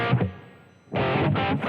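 Electric guitar through a Boss GT-10 effects processor with a light, gritty overdrive: a short strummed burst, a brief gap, then a sustained louder chord ringing out up close.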